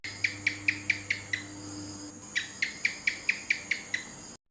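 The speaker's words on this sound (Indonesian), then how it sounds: "Cicak dalam bahasa Inggris adalah house lizard." A house lizard (gecko) chirps in two quick runs of sharp, clicking calls, about six or seven each, separated by a short pause, fairly close in a quiet room.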